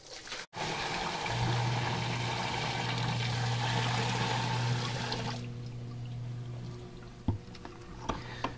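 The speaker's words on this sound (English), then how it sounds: "What we'll do is just pour this water right in." A bucket of water poured into a sump pump pit, a steady splashing rush for about five seconds that then drops to softer trickling and drips as the pour ends.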